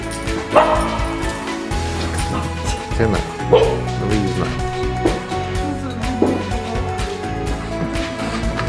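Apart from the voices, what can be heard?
dogs barking and whimpering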